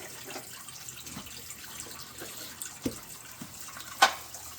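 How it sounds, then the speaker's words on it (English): Water trickles steadily out of the opened drain on a Cobalt boat engine during winterization, a soft low splash with a few faint drips and knocks. "take the pin out, plunge it down, and you're going to let the water drain"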